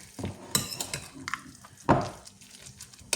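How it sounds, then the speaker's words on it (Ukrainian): Minced meat for cutlets is stirred in a bowl, giving irregular close wet squelches and soft knocks of a utensil against the dish, with no one speaking. "Так, і це все добре перемішуємо."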